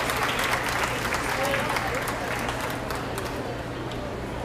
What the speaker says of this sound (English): Give them a round of applause and a good class Angus heifer